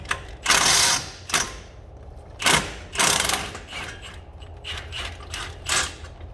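Ratchet clicks while loosening the three wheel bearing bolts on a 2WD Trailblazer SS hub, a few short bursts of metallic clicking close up, separated by pauses.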